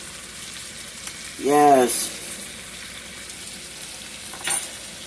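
T-bone steak sizzling steadily in a pan after being flipped, a continuous frying hiss with a brief spoken word over it and a few soft utensil sounds.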